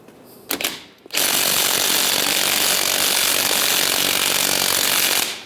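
A 21mm socket driving the top strut nut off a 1998-2010 Volkswagen Beetle: a couple of short clicks, then a loud, steady mechanical whirring that runs unbroken for about four seconds before stopping.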